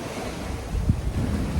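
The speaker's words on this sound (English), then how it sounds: "We're about 25 knots of wind coming from pretty much the east directly." Wind and surf at sea aboard a sailboat in about 25 knots of easterly wind, a loud rushing roar of gusts buffeting the microphone with a wave surge in the middle.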